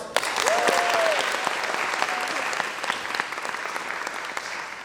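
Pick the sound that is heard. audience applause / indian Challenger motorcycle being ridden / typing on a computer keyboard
audience applause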